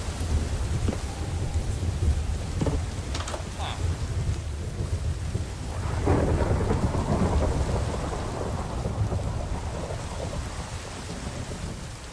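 Steady rain with rolling thunder in a Minecraft world, loud and continuous, with several sharp cracks early on and a heavy rumble building midway before easing off.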